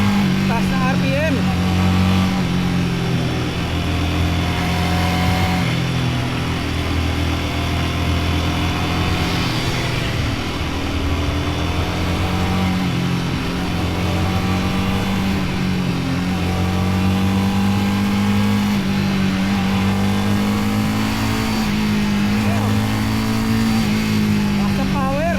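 A Royal Enfield Guerrilla 450 motorcycle engine droning and rising in pitch as it revs up through the gears on a test ride, steady and close under wind noise, with a person talking over it.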